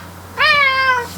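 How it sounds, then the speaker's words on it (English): A cat lets out a single clear, drawn-out meow, close and fairly loud, over a quiet background hum with no talking. "that's my cat doing crazy stuff."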